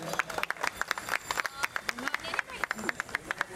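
An audience at a school sports festival claps during a lamp-lighting ceremony, a run of uneven, fairly close hand claps, with a voice talking over them.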